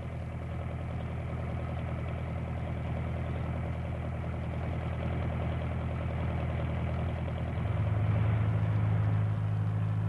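A tractor engine in a farm field runs at a steady, even hum, its pitch shifting slightly lower near the end, with no voices over it.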